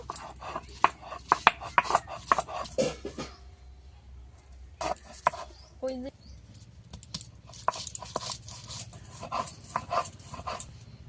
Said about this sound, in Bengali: আদা আমি মিহি করে বেটে নেব।